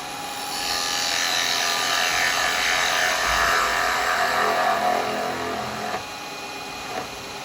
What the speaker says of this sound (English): I'm gonna just start off with a spindle gouge